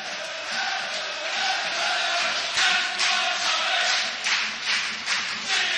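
Stockport County supporters in the main stand cheer and clap at a football match, a loud, sustained crowd roar with rhythmic clapping swelling in waves throughout.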